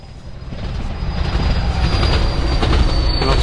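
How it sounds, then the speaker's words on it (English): A train rushes past on the Norwich to Lowestoft line near Haddiscoe Island in Norfolk, a loud, close, continuous roar of wheels and rails with a high squealing tone, building in intensity. "train has just gone past"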